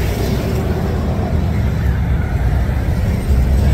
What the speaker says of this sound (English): Sorry, lots of traffic here, very busy road.